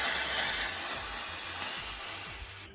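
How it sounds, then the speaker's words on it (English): Hot oil poured over mashed roasted eggplant hisses in a loud, bright, steady sizzle close up. It fades slightly over a few seconds, with no talking. "you wanna listen for that good old sizzle"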